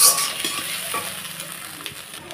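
Spring onion stalks stir-frying with salt in a pan, a steady close sizzle with scraping stirring strokes throughout, no voices.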